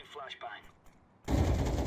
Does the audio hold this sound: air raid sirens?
no